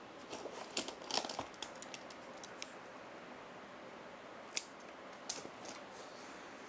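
Wire cutters snip a negative lead for a small DIY solar power station, giving a few quiet crisp clicks and snaps over faint handling rustle at close range, with no talking.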